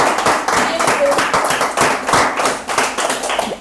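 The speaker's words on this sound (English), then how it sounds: "Clap for her, please. Give her a hand." An audience at a kids' show clapping for a girl, loud, close hand claps in a quick, uneven patter, with voices mixed in under the clapping.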